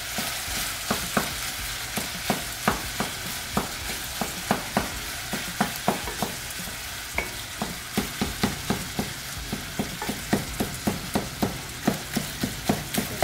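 Steady loud sizzle of sausage frying in a pan, crackling continuously with regular sharp taps of a utensil stirring against the pan throughout.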